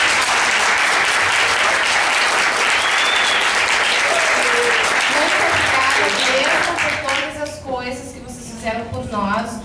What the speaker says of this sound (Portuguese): E peço uma salva de palmas